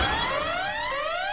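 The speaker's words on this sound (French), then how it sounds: "Pourquoi y a-t-il une sirène?" A loud wailing siren sweeps steadily upward in pitch, close and continuous for the whole brief moment.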